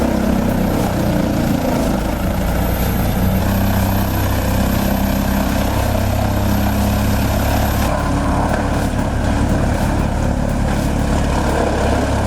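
A Woodsman 440 wood chipper runs as a loud, steady, droning engine roar with a constant low rumble while feeding whole trees, and a high whine drops out partway through.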